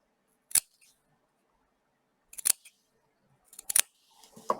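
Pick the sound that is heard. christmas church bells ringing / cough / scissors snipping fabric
scissors snipping fabric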